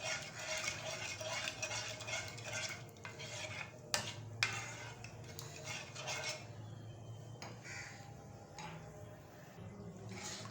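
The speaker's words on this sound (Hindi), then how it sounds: "अब हम इसको मिक्स करेंगे और इसको लो फ्लेम पर पकाएंगे गाढ़ा होने तक।" A spoon stirs and scrapes through a chana chaat mixture in a pan over a low flame. The clinks and scrapes come close and steady, with a few sharper knocks against the metal and a faint background hum.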